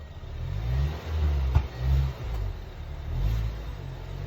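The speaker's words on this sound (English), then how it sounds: "here are some revs." A Land Rover Discovery Sport engine revs repeatedly in short bursts, a deep rumbling roar rising and falling, with a sharp crackle or pop from the exhaust midway.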